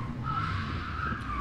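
A stock Toyota Tazz slides sideways on a gymkhana course, a steady tire squeal over engine rumble, heard close for a moment without speech.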